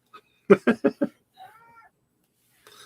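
A cat gives a quick series of four short, close meows followed by a softer trailing cry, with quiet gaps between.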